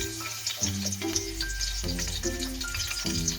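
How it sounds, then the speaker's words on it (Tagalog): Garlic sizzles in hot oil in a pan, a steady close frying hiss with occasional stirring scrapes and tonal clinks over it. "So, magigisa na tayo ng ricado. Lagay natin yung Unahin ko yung bawang."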